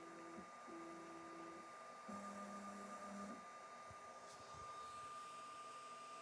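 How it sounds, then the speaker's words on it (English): A Sovol SV08 3D printer's stepper motors hum and whine quietly in shifting tones as the nozzle lowers toward its probe sensor, over a steady fan drone. "it's slowly going down, probably trying to touch the nozzle against the sensor"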